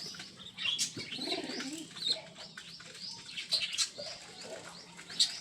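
Cross-breed pigeons in a loft give soft, fairly faint coos mixed with thin chirps and brief bursts of wing flapping, scattered irregularly throughout.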